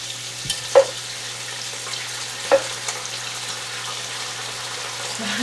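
Steady sizzling from a roast browning in a browning slow cooker, a constant hiss with a low hum and a couple of soft clinks.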